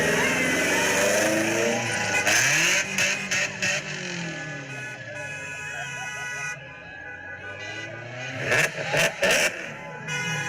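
Hundreds of cars crowding the streets around the Capitol, engines revving and passing in a continuous loud roar with horns sounding and a burst of bangs near the end, voices mixed in.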